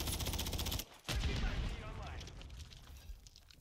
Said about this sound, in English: Everybody, shoot faster, shoot harder. Shoot more.